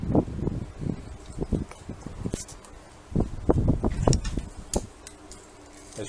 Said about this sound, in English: I've now got bits of paper blowing all over the place, as well as all the leaves.